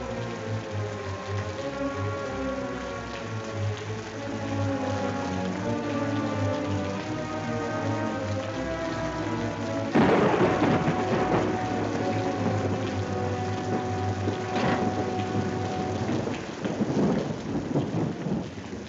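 Heavy rain pours steadily in a 1948 film scene, joined by deep thunder rumbles that swell and crack loudly partway through and keep rolling over the downpour.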